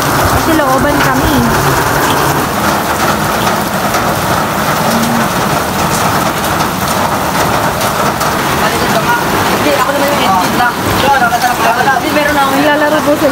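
Steady rain falls during Typhoon Carina over a flooded neighborhood in Bulacan, a dense constant hiss close by, with voices and children's play faintly mixed beneath.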